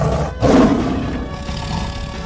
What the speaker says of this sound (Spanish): Imitar el rugido del tigre para asustarlos.